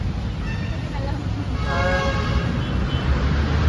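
An LRT light rail train rumbles past steadily with a brief horn-like tone, loud and close amid outdoor noise at Kalaw station, with people talking nearby.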